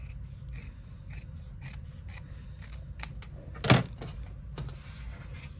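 Scissors cut across fabric bag lining in a series of short, crisp snips and clicks, one sharper and louder than the rest, close by in a quiet room.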